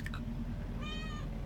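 A cat inside a truck lets out a short, clear meow near the end, heard close by over the low rumble of the vehicle's cab.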